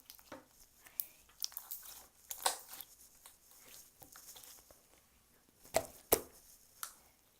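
Quiet, close squelching of sticky slime with scattered small pops and crackles, irregular and soft.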